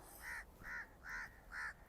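Crows give four evenly spaced harsh caws, moderately distant and fairly faint, with no talking.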